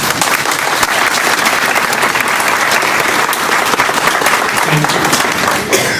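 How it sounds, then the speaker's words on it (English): An audience at a keynote event for county teacher assistants gives loud, sustained applause, a dense, even wash of clapping that holds steady for the full six seconds. "Let's give them a round of applause."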